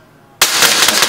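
Airsoft guns open fire suddenly after a quiet moment, a loud dense rattle of rapid shots that continues without pause.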